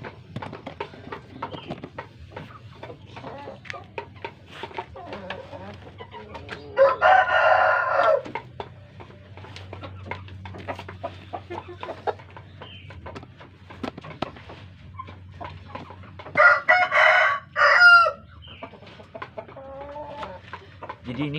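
Two loud rooster crows ring out, one around the middle and one near the end, over quieter Brahma chicken clucking and scattered background chatter.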